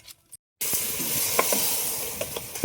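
Masala paste for mutton sizzles loudly in oil in a pan on a wood-fired stove, and a spoon scrapes through it in a few distinct stirring knocks, after a short quiet start.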